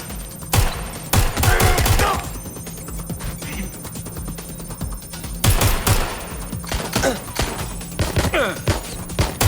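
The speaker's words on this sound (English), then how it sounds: "I'm taking fire!" Dense bursts of gunfire in the Watch Dogs Legion video game, rapid automatic volleys and sharp shots crackling loudly in clusters over a low background hum.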